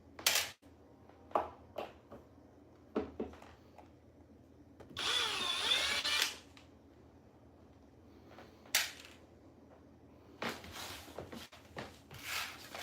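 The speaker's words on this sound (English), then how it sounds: "So I'm just using the drill by hand." Short bursts of a power drill whirring while undoing bolts during an Inmotion P6 tire change, with one longer run in the middle and several brief spurts after, separated by quiet pauses.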